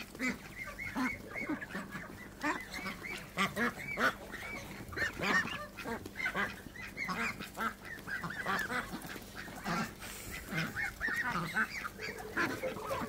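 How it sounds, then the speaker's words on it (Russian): Farmyard ducks and geese honking and quacking in a busy, overlapping chorus, with a duck scuffling and fighting among them; calls come in rapid bursts close by throughout, without speech. "Смотрите, утка дерется с кем-то."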